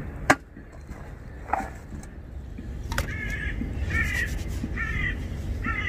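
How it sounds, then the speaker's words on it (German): Ravens caw outdoors at an abandoned lost place overgrown by nature, four loud repeated harsh calls in a steady rhythm, preceded by a few sharp knocks over a constant low rumble. "Ja, die Raben sind auch am Singen."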